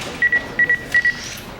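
Mobile phone keypad tones sound as three quick pairs of short electronic beeps in an even rhythm, clear and close, with a faint room hush between them.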